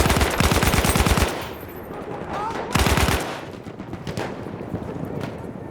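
An assault weapon in Battlefield 1 fires two loud, close bursts of rapid automatic gunfire, the first longer and the second short, with quieter game ambience between and after.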